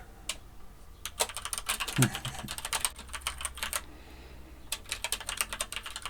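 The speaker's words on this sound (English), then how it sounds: "It's just a keyboard. Just a regular keyboard." Typing on a regular computer keyboard produces rapid irregular clicks in bursts with short pauses, close and moderately loud, with faint background noise.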